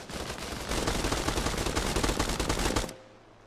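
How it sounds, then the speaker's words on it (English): Sustained burst of automatic gunfire in the military shooter Arma Reforger, a dense rapid volley of loud shots lasting nearly three seconds before cutting off abruptly into quiet ambience. "I could have swore I heard gunshots this way."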